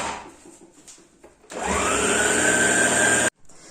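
An electric mixer kneads bun dough, whirring steadily and loudly for about two seconds after some quieter handling noises, then cutting off abruptly.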